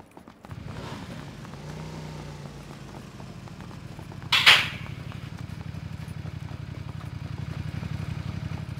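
A steady motorcycle engine idling and rumbling in a video game, its low throbbing continuing throughout, with a brief sharp clatter partway through.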